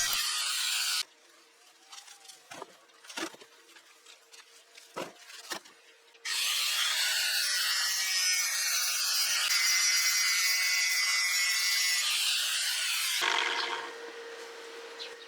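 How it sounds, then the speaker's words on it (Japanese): A sander grinds down a raised weld bead on a homemade metal rose trellis. It opens with a burst of grinding, then scattered scrapes and knocks, then a long steady whine of grinding that drops to a lower hum near the end. "サンダーを使って溶接で盛り上がった部分を整えます。"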